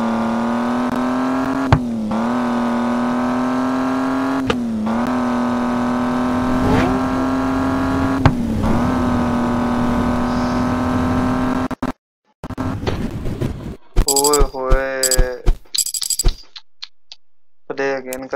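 A car engine drones steadily in a driving video game, dipping briefly at each of several gear shifts, then breaks into choppier revving and game effects near the end.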